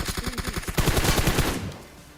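Rapid bursts of automatic gunfire during a squad fight in the PUBG video game, loud and close, the shots coming in quick rhythmic volleys before trailing off into a fading echo.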